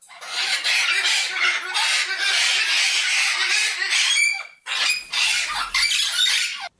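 A parrot lets out harsh, rapid squawks of outrage, a dense continuous burst of loud screeching calls that breaks off briefly before a second agitated volley.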